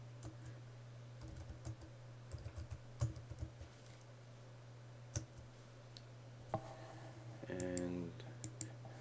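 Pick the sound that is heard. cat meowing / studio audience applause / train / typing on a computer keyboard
typing on a computer keyboard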